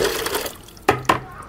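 Water poured into a car's coolant reservoir gives a close, gurgling splash that fades, then two short sharp knocks or drips follow.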